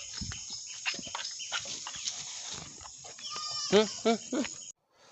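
A goat on a farm in Assam bleats several times in quick succession, close and fairly loud, after a stretch of background chatter and scuffling.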